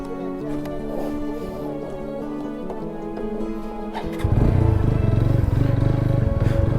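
A motorcycle engine runs during a ride: a quieter rumble with light rattles for about four seconds, then a sudden, louder, steady droning roar as the bike pulls harder, heard close.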